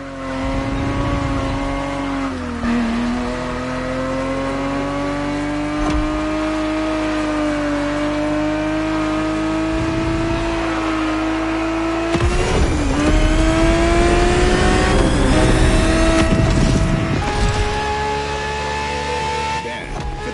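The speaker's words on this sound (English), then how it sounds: "Ferrari racing as it felt back in the 70s." Ferrari race car from the 1970s in The Crew Motorfest, its engine droning at sustained high revs with rising and falling pitch, gear shifts and a harsher, louder burst of revving near the end.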